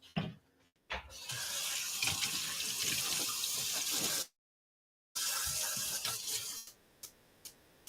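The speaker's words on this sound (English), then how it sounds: "going to wash my hands" Hands washed under a running kitchen tap after handling raw shrimp, a steady splashing stream that briefly stops and restarts, then trails off into a few drips and clinks.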